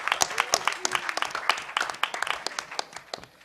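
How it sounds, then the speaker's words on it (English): An audience at a hacker conference claps for the crowd, a dense patter of many hands with sharp individual claps, steady for a few seconds and fading toward the end, under light cheering. "I think it's a round of applause for everybody standing up out there."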